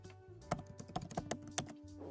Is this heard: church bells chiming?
no